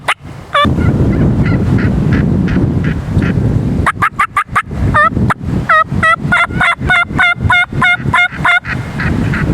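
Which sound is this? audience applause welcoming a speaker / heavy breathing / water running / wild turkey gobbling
wild turkey gobbling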